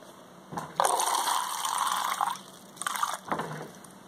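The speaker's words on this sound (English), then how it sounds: "So we're going to put some of that into our cup here." Bottled water is poured into a cup in two close, steady streams, the first a longer gurgling pour and the second a shorter one, with no talk over it.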